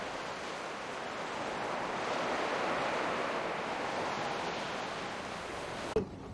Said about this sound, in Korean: 아래로 파도가 부서지는 소리에 귀 기울였다